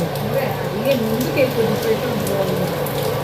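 Steady rain patters onto a newly laid sheet-metal roof of a house, a dense even hiss filling the background while people talk over it.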